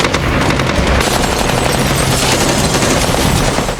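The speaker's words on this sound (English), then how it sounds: "heard the gunshots and realized that the war had begun" Sustained automatic gunfire in The Walking Dead Season 8 all-out war battle, Rick's side against Negan's survivors, a loud, continuous rattling fusillade with dense rapid shots and booming bursts throughout.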